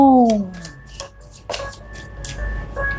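Tarot cards are handled and picked with soft close-up taps, slides and rustles. A brief falling tonal sweep comes at the very start.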